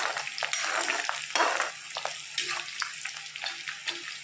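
Green chilies and ginger fry in a generous pool of oil for garlic pickle, a close, busy sizzle with scraping stir strokes that grows gentler toward the end.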